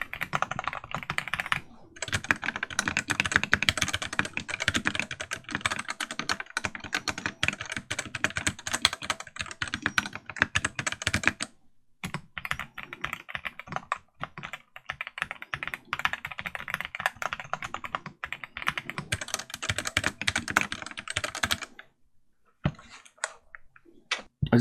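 Steady, fast typing on a KBDfans Tiger Lite mechanical keyboard with brown switches, dense close clacking in bursts with a couple of short pauses, alone without voices.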